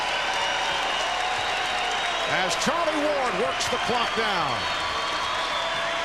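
Crowd applause and murmur fill an arena at a 1996 Knicks versus Warriors NBA basketball game, steady and moderately loud beneath continuous commentator speech, with a couple of brief sharper bursts midway.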